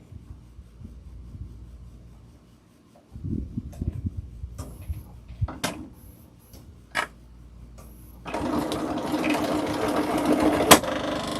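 A sewing machine runs in short stop-start bursts on a regular stitch at stitch length 4, then settles into a steady, louder whirring stitch with a sharp click near the end.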